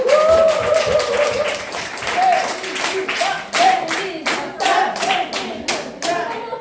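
A group at a detox camp event claps enthusiastically, a dense burst of hand clapping that keeps going with uneven rhythm and swells a little before tapering off.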